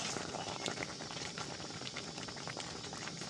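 Jaggery syrup thickened with raw mango pulp for a pickle bubbles steadily in a pan, a continuous faint burble with soft popping bursts and no voices.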